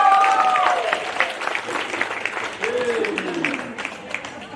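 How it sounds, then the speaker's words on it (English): Applause from an audience at an Australia Day awards night, a steady wash of clapping throughout with a voice talking over it near the start and again midway. "Another round of applause from Manato Melie."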